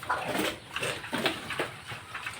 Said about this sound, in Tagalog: mga baboy natin dito medyo malalaki na sila